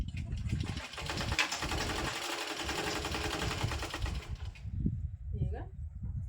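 A sewing machine runs in a steady, dense whir while stitching a blouse, then stops near the end, with a person talking over and after it.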